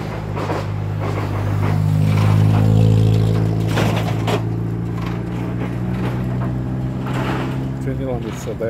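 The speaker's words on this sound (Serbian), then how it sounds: "ovo je neki auto sa prikolicom" A car towing a trailer passes at night on a road in Resnik. A low engine hum swells and fades over several seconds while a person talks over it.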